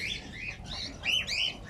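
Cockatiels, budgies and finches in an aviary give repeated high chirps and short calls, several overlapping birds close by, with no talking.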